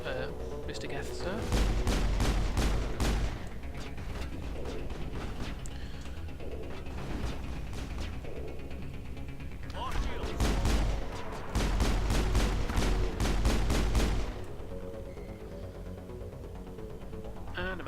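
Geth weapons fire and explosives in a Mass Effect firefight: repeated loud bursts of rapid shots in clusters, heavy booming impacts between them, and a voice talking over the combat.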